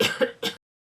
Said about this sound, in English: She coughed.